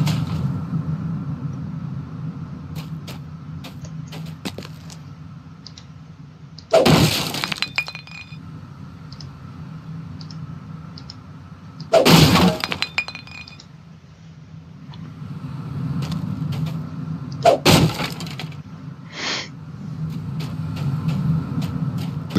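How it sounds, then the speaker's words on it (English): Wooden crates smashed in the video game Dungeons and Dragons Online, three loud cracking breaks spaced about five seconds apart over a steady low ambient hum, with faint clinks between them. "but I'm going to be smashing these crates."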